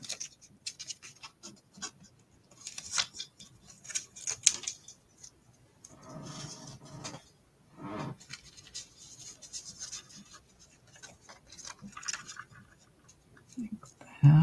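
Adhesive backing being peeled off paper craft pieces, heard as soft, intermittent scratchy rustling and crinkling, close and quiet, with a voice speaking softly over it.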